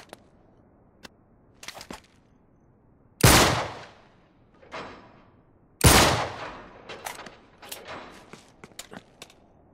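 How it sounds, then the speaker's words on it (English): Gunfire from a lock being shot open in the Uncharted 3: Drake's Deception Remastered video game: two loud, sharp blasts with decaying tails a few seconds apart, surrounded by scattered light clicks and footsteps. "I'll shoot the lock."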